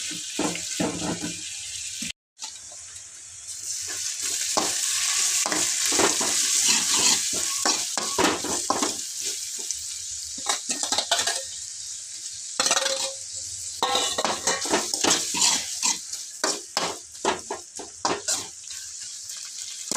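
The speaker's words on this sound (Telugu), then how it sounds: "బాగా బ్రౌన్ కలర్ వచ్చేటట్లు ఇట్లా బాగా వేయించుకోవాలి" Ginger-garlic paste, coriander, curry leaves and mint fry together for egg biryani, giving a loud, bright sizzle with repeated scraping stirs and clinks from a spoon against the pan.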